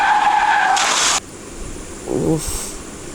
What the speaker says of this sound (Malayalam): വണ്ടി ഡ്രിഫ്റ്റായി.